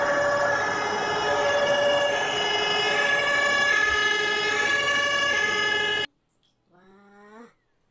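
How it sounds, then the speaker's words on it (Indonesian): A toy fire engine's electronic siren wails steadily and loudly up close, a tinny repeating tone, then cuts out abruptly, leaving a brief faint voice. "ini namanya mobil pemadam kebakaran teman-teman"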